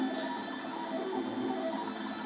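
Makerbot Replicator 3D printer running without microstepping, a steady close mechanical hum with faint rapid ticking and whirring from the moving carriage, alone without talk.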